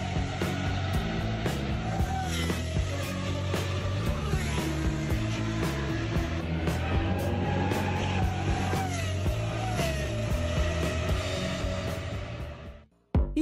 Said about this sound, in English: Sound of race cars is weirdly therapeutic